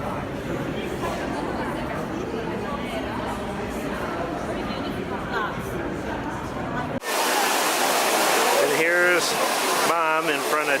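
Water splashes steadily at the Trevi Fountain in Rome amid a crowd's murmur, a dense continuous wash for about seven seconds before it cuts to a different, closer scene where people talk.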